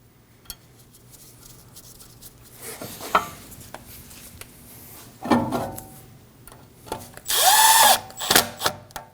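Power tool snugging down a rotor screw on a 2016-2022 Honda Pilot front steering knuckle: scattered clanks and taps of handling, then short whirring bursts of the driver, loudest near the end, close by.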